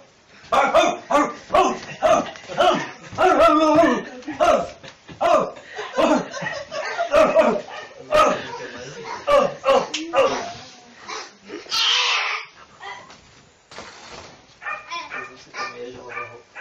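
A hypnotized man imitates a barking dog in repeated bursts of voiced barks and yelps, mixed with chuckles and laughter from others nearby, loud and close.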